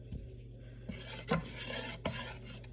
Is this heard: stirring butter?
yes